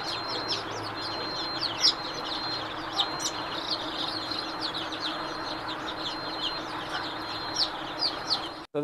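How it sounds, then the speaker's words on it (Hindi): Sonali breed chicks and chickens on a poultry farm, a steady chorus of high peeping chirps and clucks at moderate distance, continuous and fairly faint, with no speech. "ये देखिए हमारे यहाँ सोनाली का बच्चा लगा हुआ है।"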